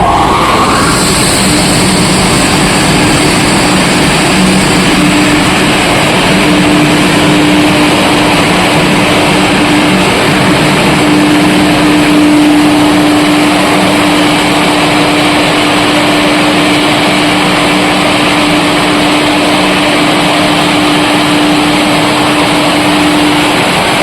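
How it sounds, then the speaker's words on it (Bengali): A 150 HP main fire pump runs in a pump room, giving a loud, steady mechanical roar with a constant hum throughout and no speech. "আর 150 এইচপি পাম্প চালু হওয়ার সময় কতটা পরিমাণে আওয়াজ হয় তোমরা এই ভিডিওর মাধ্যমে দেখতে পাচ্ছ।"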